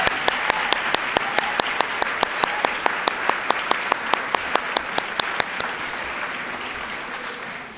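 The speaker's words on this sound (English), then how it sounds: "please give her another round of applause" A live audience at a community event for a sexual assault victims' aid program claps in steady applause, dense and sustained for several seconds and then slowly thinning out, with a few sharper individual claps standing out near the front.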